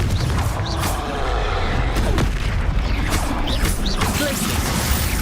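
A Confringo fire spell bursts in Hogwarts Legacy combat with a loud, close booming explosion. Crashing, crackling debris and layered impact noise follow without a break.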